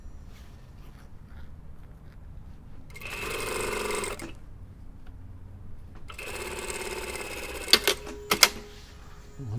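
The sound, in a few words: sewing machine stitching a jacket shoulder seam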